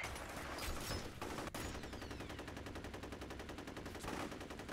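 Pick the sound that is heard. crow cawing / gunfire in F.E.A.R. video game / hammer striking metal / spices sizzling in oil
gunfire in F.E.A.R. video game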